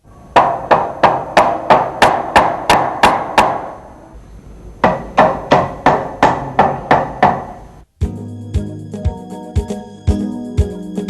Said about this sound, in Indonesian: pukul pelan-pelan menggunakan palu plastik agar lebih mudah diangkat